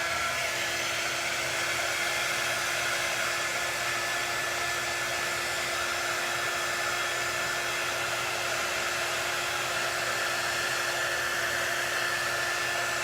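A hair dryer runs continuously at close range to dry chalk paste on a craft project, a steady, even whooshing hum that lasts the whole time with no voices.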